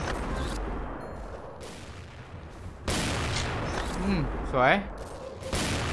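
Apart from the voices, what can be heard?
Cold Roar M82A1 sniper rifle shots in XSHOT video game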